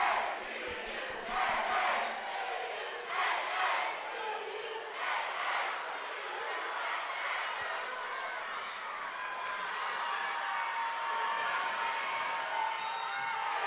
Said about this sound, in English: Listen to the crowd, folks.